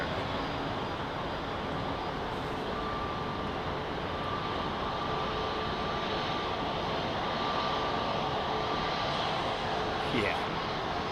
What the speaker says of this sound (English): Jetliner.